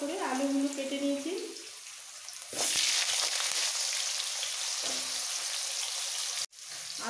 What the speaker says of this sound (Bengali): আলুটাগুলো ভাজতে হবে।